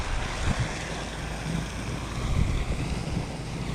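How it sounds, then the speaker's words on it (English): Strong wind buffets a fishing boat on open water, a steady broadband rush with gusty swells and faint low thumps from hull or water, no voices. "Today the wind's just kicking"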